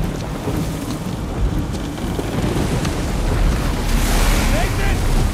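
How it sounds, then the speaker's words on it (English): Rushing water with heavy wind noise and boat-like rumble in the Uncharted 4 video game, a loud, dense, continuous wash that grows a little louder toward the end. "I hear water here."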